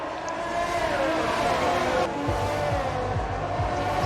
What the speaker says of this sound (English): Looks like he's ahead, but Hayes fighting it back down the straight.